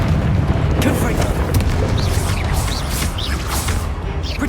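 Confringo fire spell going off in a Harry Potter video game, a loud roaring blast with a dense rumbling body that keeps up without a break.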